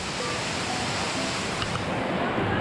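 Emery Creek Falls near Chatsworth, Georgia, rushes as a constant, dense roar of falling water on a forest hiking trail, loud and unbroken throughout.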